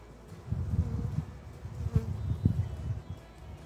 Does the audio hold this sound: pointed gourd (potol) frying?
no